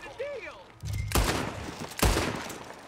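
Gunfire from the Red Dead Redemption 2 video game, with two loud, sharp gunshot bursts about a second apart, each followed by a decaying rumble, mixed with game voices and ambient sound.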